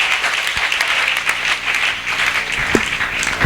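An audience applauds steadily with dense, sustained clapping that fills the space, and a few louder claps stand out near the end.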